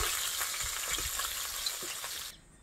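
Small Japanese puti fish frying in a wok of oil on a pondside shed kitchen, a steady dense sizzle close by with faint stirring taps, cutting off abruptly near the end.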